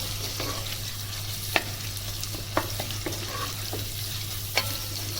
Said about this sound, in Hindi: प्याज को हमने तकरीबन गोल्डन ब्राउन करना है।